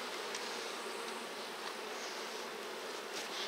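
A swarm of honey bees circles the hives at an apiary during honey harvesting, giving a dense continuous buzzing hum with faint individual wingbeats passing near the listener.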